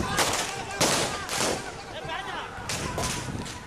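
Police gunshots fired into the air to disperse a protest crowd ring out as several loud, sharp cracks amid crowd noise and echo, spaced irregularly over a few seconds.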